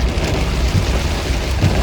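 Heavy monsoon rain pours down hard and steadily near Jim Corbett tiger territory, a loud, dense, continuous roar of drops drumming on surfaces with a deep low rumble underneath and no voices.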